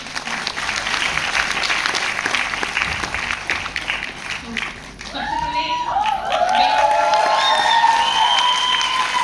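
Audience clapping at a Vestige company event, a dense burst of applause and some cheering that fades midway, then voices and a brief spoken phrase as the crowd noise swells again.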